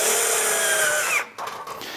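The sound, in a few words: drill cutting through metal flashing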